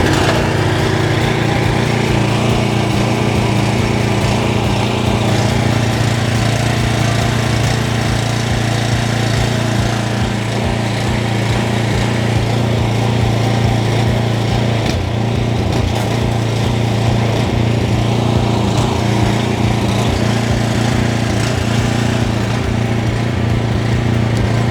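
A JCB jet washer's petrol engine runs steadily and loudly close by, a continuous low throbbing drone with a rough mechanical rattle that holds without a break.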